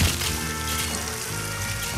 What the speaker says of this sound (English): And you turn the water off.